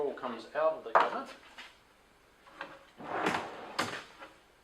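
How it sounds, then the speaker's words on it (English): A cabinet drawer slides out along its bearing runners, giving a few scraping, rattling bursts at close range, with quiet gaps in between and some light clatter. "I'll show you how the drawer comes out of the cabinet"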